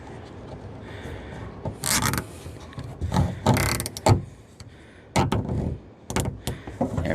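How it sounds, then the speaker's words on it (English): A fastener on a homemade self-watering planter is handled and latched, giving close rubbing, scraping and clicking mechanical noises in irregular bursts, fairly loud with no talking. "so that the fastener is on the inside when I latch it"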